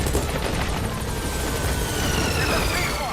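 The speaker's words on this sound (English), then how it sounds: "So we'll call the helicopter back to our landing zone." Helicopter arriving at a landing zone in the video game Metal Gear Solid V: The Phantom Pain, a steady, dense rotor roar that fills the whole clip at close range, mixed with battle noise.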